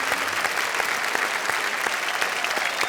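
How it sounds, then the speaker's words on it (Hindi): Steady, dense audience applause at a Hindi poetry recitation show, continuous clapping at an even level throughout, with no speech over it. "जोरदार तालियां"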